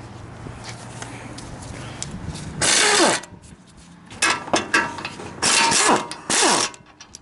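Hand ratchet with a 13/16 socket loosening caliper bracket bolts on a 2009–2014 Ford F-150 during a front wheel bearing job: several bursts of fast, close, sharp ratcheting clicks separated by quieter handling noises.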